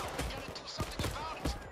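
Starter weapon gunfire in the video game Payday 2, several quick shots in an uneven burst, fairly quiet and mixed with other game sound.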